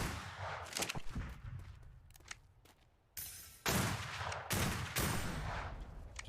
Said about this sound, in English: Just shoot at them if they're on the emplacements.